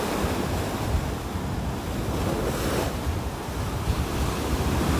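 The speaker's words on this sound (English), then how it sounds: "Ooh, this wind is something." Strong wind roars steadily across an open beach in North Naples, buffeting the microphone with gusty rumble over a continuous wash of surf.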